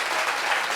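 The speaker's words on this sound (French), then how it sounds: "Applaudissez pour Mohamed." An audience at a panel discussion gives a short, dense burst of applause, many hands clapping together into a loud, even wash of sound.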